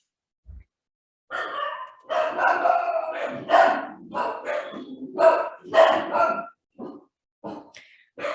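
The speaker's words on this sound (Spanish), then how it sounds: "si escuchan unos perros que ladran ahora, hagan oído sordo" Dogs bark repeatedly in loud, close bursts, several barks in quick succession with brief pauses between them.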